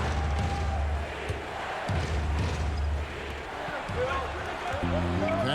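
Virtual arena crowd in an NBA 2K21 basketball game between the Seattle SuperSonics and Toronto Raptors, a steady roar of cheering and noise with ball bounces and thumps, under commentary and talk.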